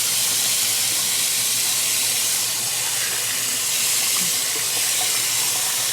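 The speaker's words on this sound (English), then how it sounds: "Water everywhere. Splashing everywhere." Steady shower spray hissing and splashing continuously as a young girl plays in the water, filling the space with broadband rushing noise and no talk.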